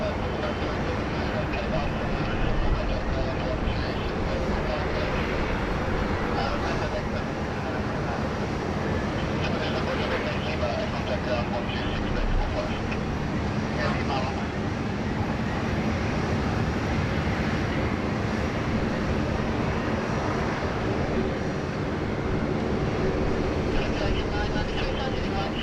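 A Qatar Airways Boeing 777-300ER with retro livery at Sydney Airport, a steady, broad jet roar holding at moderate volume throughout.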